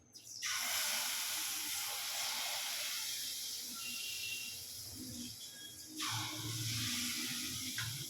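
Malpua batter sizzles in hot oil with a loud, close, steady frying hiss that eases midway and then surges again as more batter goes in. No one speaks.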